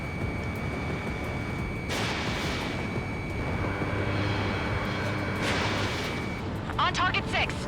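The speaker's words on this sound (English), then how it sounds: "Missile launched." A missile launch in the Ace Combat 7 flight game sounds as a loud whooshing roar that surges near 2 seconds and again near 5.5 seconds. Steady jet engine drone runs throughout, and a voice is heard near the end.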